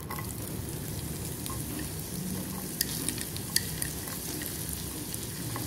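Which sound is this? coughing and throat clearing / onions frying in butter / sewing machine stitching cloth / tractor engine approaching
onions frying in butter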